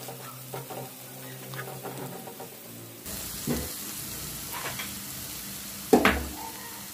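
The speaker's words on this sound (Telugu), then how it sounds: "ఇది ఈ ఉప్పు కారం అంతా కూడా మంచిగా ఆయిల్లో ఫ్రై కావాలి." Garam masala, salt, chilli powder and turmeric fry in oil for biryani with a low, even sizzle, stirred now and then. Louder spoon scrapes and clinks come near the end.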